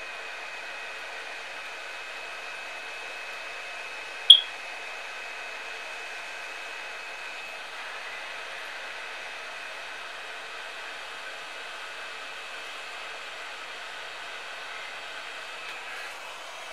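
A heat gun shrinks heat shrink tubing on an FPV drone build, giving off a faint, steady airy hiss that holds evenly for about seventeen seconds, broken once by a brief sharp click.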